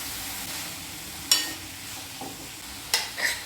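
Sprouted grains are added to a pan and stirred, with two or three quick scraping clatters over a faint, steady sizzle, heard up close.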